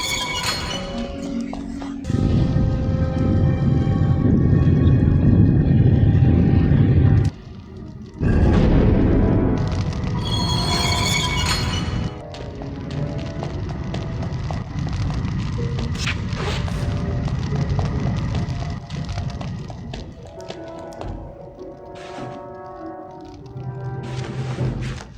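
Fire spell cast in a Harry Potter video game, a loud roaring whoosh of flame with booming low rumble that cuts off abruptly, then returns and fades into lighter game sounds.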